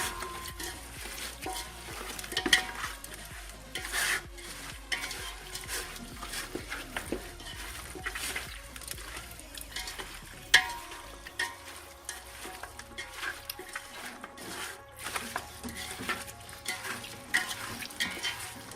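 Chicken pieces being stirred into a marinade with a spoonful or two of cooking oil for biryani, giving a steady run of wet squelching, spoon scrapes and light metal clinks against a bowl, moderately close.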